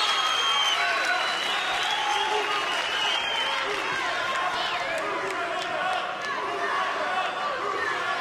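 Crowd cheering and applauding at a Metamoris jiu-jitsu match, a dense continuous roar of clapping and shouts filling the arena, with commentary over it.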